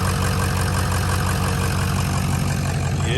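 A 2005 Ford F-350 King Ranch diesel pickup idles close up after a fuel injection control module replacement, with a steady, loud, rhythmic low rumble and clatter that stays even throughout.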